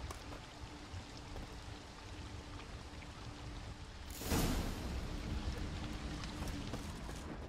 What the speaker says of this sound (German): Da oben fließt Wasser an der Decke.